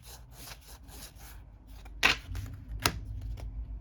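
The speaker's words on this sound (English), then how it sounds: "And these are unit focus cards." Game cards from an Agents of Mayhem board game expansion are handled up close, with soft rustling and sliding and a couple of sharper snaps.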